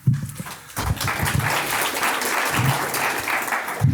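Steady applause from an audience fills the whole stretch, dense clapping at moderate volume with a few louder thumps.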